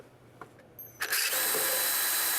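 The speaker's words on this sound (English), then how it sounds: "We got to drill a hole farther up through here in order to get our bolt through it" A power drill bores a bolt hole through a vehicle part in a garage. After about a second of quiet handling clicks, it spins up into a loud, steady, close whine that runs to the end.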